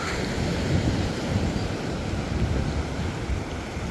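Ocean surf at the beach of Bwedu village in Sierra Leone, a continuous, loud, broad rush of breaking waves mixed with heavy wind buffeting, with no distinct individual breaks.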